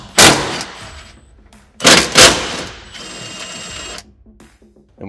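Power tool removing seat bolts on a Kawasaki Teryx KRX 1000, loud close bursts of ratcheting impact-driver chatter, two short runs then a longer whirring run, with pauses between and no talking.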